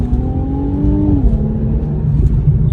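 A 2022 Infiniti Q50 Red Sport twin turbo accelerates with a loud, steady engine drone and a whine that climbs in pitch before settling, heard from close up without speech.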